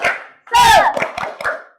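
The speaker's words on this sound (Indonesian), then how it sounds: "Kita tepuk semangat dulu ya." A classroom of children does a short rhythmic spirit clap, a few quick sharp claps mixed with voices.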